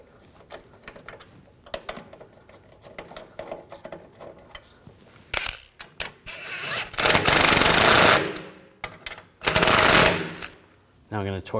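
Shock bolts being started on the rear suspension of a 2007-2013 BMW 328i, with quiet handling clicks and then two long, loud bursts of a rattling impact-wrench hammer close by.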